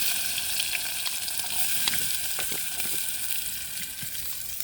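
Onions sizzle and fry in a pan for marcha nu shaak, a Gujarati stuffed chili dish: a steady, fairly quiet hiss with small crackles and pops, no voices.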